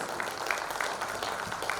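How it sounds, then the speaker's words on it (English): Audience at an education conference session in Mumbai clapping for chief guests and speakers, a steady patter of applause from a moderate crowd, evenly sustained throughout and heard from within the hall. "can we please present a round of applause for our chief guests and our chief speakers"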